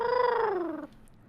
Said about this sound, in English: You hear kind of like a grumbling purr, like a kind of like shiver through this.